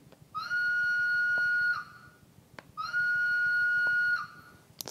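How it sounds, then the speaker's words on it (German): A Heljan digital-sound model diesel locomotive sounds its standard horn, two long steady tones of about 1.5 seconds each with a short gap between them, clear and close through a small speaker. "Dann haben wir die Funktion F2, das ist die normale Pfeife."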